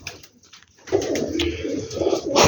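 Black Teddy pigeons coo in a steady run of low, throaty calls, close and fairly loud, with a brief quieter gap near the start and no talking.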